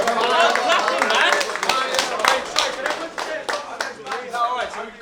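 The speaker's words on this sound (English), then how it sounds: "That definitely deserves a polite clap. I'm clapping, man." Scattered clapping from a small crowd at a rap battle event, uneven distinct claps over several seconds with voices talking underneath.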